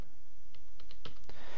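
A handful of quick keystrokes on a computer keyboard entering a zip code, light distinct clicks over a constant background hum.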